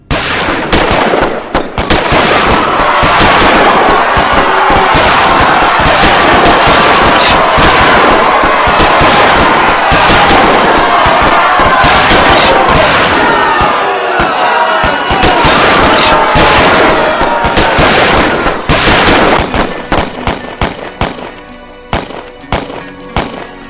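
Dense, relentless bursts of rapid gunfire fired on an unarmed crowd of thousands of men, women and children tear through loud, frantic crowd noise, the shots easing into scattered cracks near the end.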